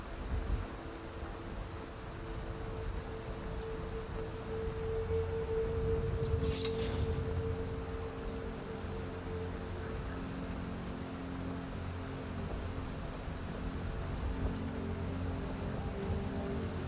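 Steady rain falls across an open landscape near Rorikstead in the video game Skyrim, a constant soft hiss with a faint distant rumble, heard alone with no talk.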